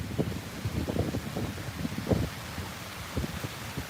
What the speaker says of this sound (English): the wind's picking back up again.